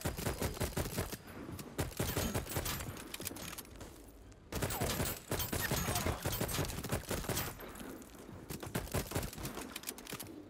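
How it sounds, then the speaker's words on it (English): Shotgun blasts in the video game Voidtrain, a dense run of sharp, loud shots in rapid bursts with a brief lull midway, close and dominant throughout. "I fucking love the shotgun."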